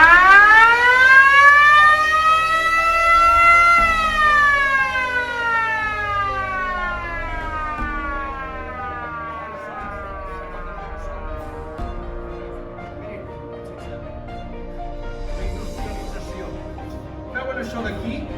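Factory sirens wail loudly, a rising whine that peaks and then slowly falls away over many seconds, with faint background noise from a theatrical visit at a textile museum.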